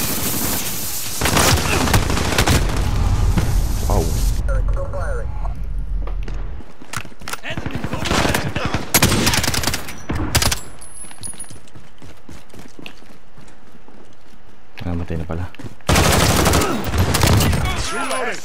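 Gunfire in Call of Duty Modern Warfare multiplayer, with bursts of rapid automatic fire and scattered shots alternating with quieter gaps, loud and close, under a player shouting callouts.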